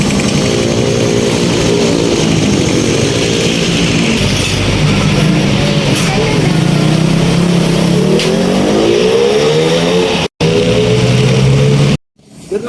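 A loud motorcycle engine fitted with a KOSO KSR 30mm carburetor drones and revs up and down close by, rising and falling in pitch over a steady rumble, with brief cutouts near the end.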